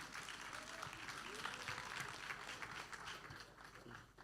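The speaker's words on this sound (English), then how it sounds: "Put your hands together for us now. Clap for us small." A summit audience claps for the performers, a broad, moderately distant patter of many hands with a voice speaking faintly underneath, easing off slightly toward the end.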